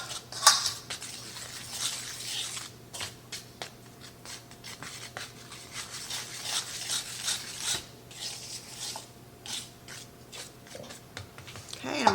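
A whisk scrapes and clatters around a bowl while mixing zucchini bread batter: steady rasping strokes with scattered sharper clinks throughout, fairly close and alone.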